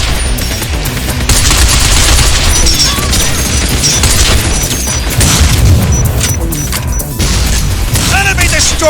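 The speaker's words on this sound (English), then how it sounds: "I'm using a grenade!" Binary Domain game combat: a loud grenade explosion and heavy automatic gunfire layered with mechanical clatter, sustained and dense throughout, with game voices shouting beneath the din.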